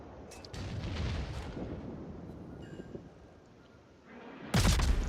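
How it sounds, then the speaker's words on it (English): Naval gun salvos in World of Warships, a Khabarovsk-class destroyer in the battle, heard as low booming rumbles and rolling blasts of moderate loudness, ending in a sudden heavy boom near the end. "We're seeing really good salvos."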